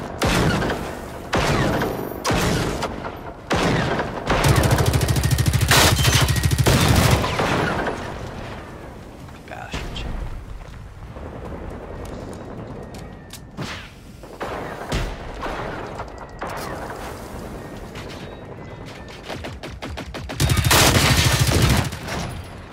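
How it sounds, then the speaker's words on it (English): Heavy gunfire from shooting up an enemy base in the video game Generation Zero, with dense bursts of rapid automatic shots and sharp cracks in rolling volleys across the whole stretch, loudest near the start and end. "Shooting up the base."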